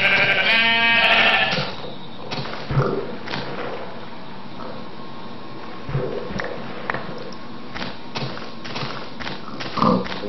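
Sheep bleating in the video game Minecraft, a loud wavering bleat at the start followed by sparse clicks and short game sounds over a steady background, with a voice heard briefly.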